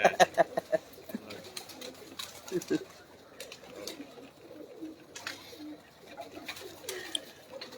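Pigeons kept by a pigeon breeder coo softly in repeated low calls amid background bustle and occasional voices, the calls coming in scattered bursts throughout.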